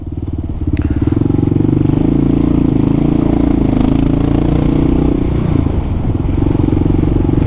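A Kawasaki KLR motorcycle rides from Harlem toward Grand Army Plaza, its loud single-cylinder engine droning steadily up close with slight rises and dips in revs and some mechanical clatter.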